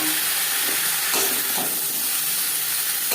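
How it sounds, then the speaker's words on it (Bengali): Sliced ridge gourd hits reddish-fried onions in a pan for a prawn chorchori, a loud steady hiss of steam and sizzling fat, close and continuous with a few soft stirring scrapes. "পেঁয়াজ লালচে করে ভাজা হয়ে গেছে। এই পর্যায়ে দিয়ে দেবো ঝিঙে।"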